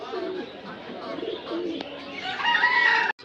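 Pigeons coo steadily at a crowded pigeon market in Bangladesh, a soft layered murmur of birds close by, with a faint background of voices and market bustle.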